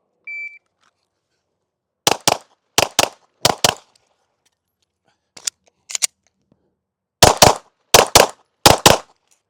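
Glock 19X pistol shots fired in paired bursts during a timed shooting drill: a shot-timer beep, then three quick double shots, a couple of lighter reports, and three more rapid pairs, loud and sharp against a quiet range.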